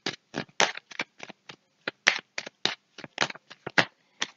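Tarot cards are shuffled and drawn by hand: a run of crisp, close riffling and snapping bursts in an irregular rhythm, quiet and alone with no talking.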